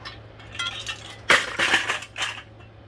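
Glass from a ceiling fan's light bulbs breaking during a demolition: a sharp crunching shatter followed by scattered tinkling and clinking fragments, moderately loud and close, with no talking.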